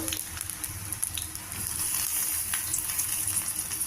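Small eggplant pieces fry in hot oil, a bright continuous sizzle with crackling spatter that swells slightly midway and holds steady close up.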